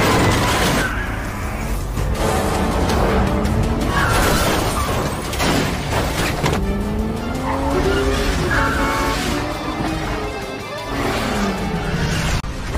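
Film chase scene with a motorcycle fleeing gangsters, tires skidding and squealing repeatedly over loud engine roar, with crashes and impacts mixed in, no talk.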